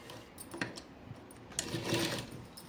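A sewing machine stitches a seam on a Punjabi dress in short bursts, its needle whirring and rattling close by and stopping between runs.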